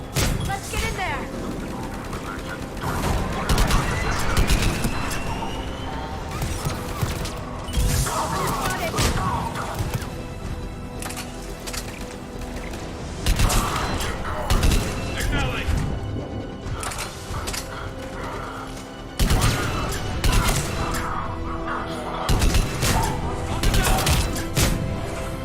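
Gunfire at a Cerberus checkpoint in Mass Effect 3 comes in repeated bursts and crashes, with loud clusters of shots and impacts recurring throughout amid mechanical noise and frequent talking.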